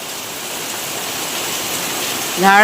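Heavy unseasonal rain pours down in a steady, dense hiss, loud and continuous, with a brief tonal sound rising near the end.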